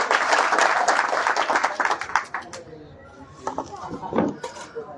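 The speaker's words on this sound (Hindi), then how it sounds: "ताली बजा दीजिए एक बार।" A small group of people claps in response to a request during a ritual demonstration, a dense burst of hand claps that thins out into scattered, nearby claps mixed with some talk.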